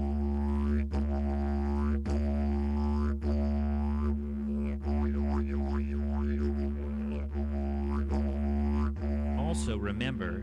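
A didgeridoo drone imitating a kangaroo's bouncing leaps, the deep continuous tone broken by rhythmic, springy vocal accents at roughly regular intervals, played close and alone.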